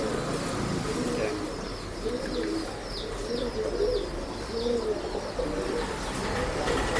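Male breeding pigeons coo repeatedly in low, rolling phrases, with other birds chirping faintly in the background of a busy loft.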